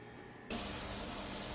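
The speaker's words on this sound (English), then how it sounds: "I'll bring you back when we get that steady stream of steam coming out of there" Steam hisses from the vent of a pressure canner on a home stove, starting abruptly and then holding a loud, steady, broadband rush with no talking.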